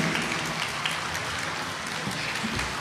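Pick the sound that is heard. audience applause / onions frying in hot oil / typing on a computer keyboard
audience applause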